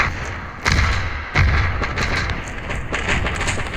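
Grenade blasts in the shooter game Standoff come as two heavy booming thuds about a second apart, followed by lighter scattered impacts and game noise.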